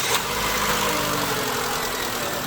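A 2001-2005 Honda Civic engine with a suspected bad starter runs after being cranked, giving a steady, close, loud mechanical hum with no speech.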